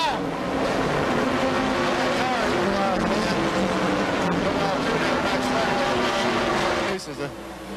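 Stock race cars roar past during the 1981 Daytona 500, with a loud, continuous dense engine and crowd wash filling the track, easing briefly near the end.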